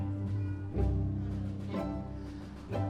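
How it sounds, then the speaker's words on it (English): String section of the U.S. Marine Chamber Orchestra plucking pizzicato, a few soft separate plucked notes with low sustained tones underneath, quiet. "They can pluck their strings and play pizzicato."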